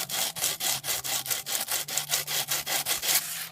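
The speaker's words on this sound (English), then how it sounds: "we can come over here to some sandpaper. And just lining up your flat end, we just want to" The trimmed edge of a plastic robot visor is rubbed back and forth on sandpaper. About fourteen loud, even rasping strokes sound close up, and no one speaks.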